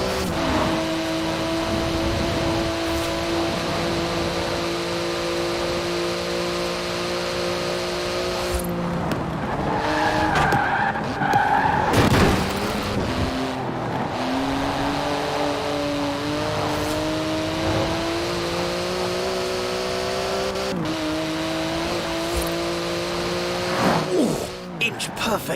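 A Porsche 911 GT2 in Forza Horizon 4 roars with a steady high-revving engine drone that climbs and shifts through gears, with brief tyre skids mid-run and a voice talking over it.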